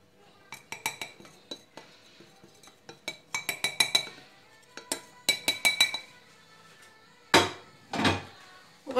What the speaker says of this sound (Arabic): غادي نستعمل الطراب اليدوي في الاول، غنضيف الفورص ديالي كامل